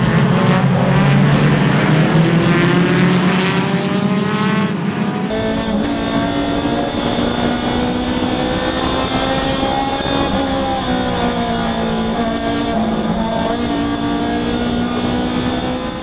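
A pack of race cars at the Gridlife GLTC 2020 race at Autobahn roars off the green flag, engines howling loudly and rising in pitch together as the field accelerates, a dense continuous wall of engine noise.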